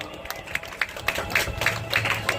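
Brief, uneven clapping from the audience at a blood donation camp event, close and moderately loud, mixed with crowd murmur.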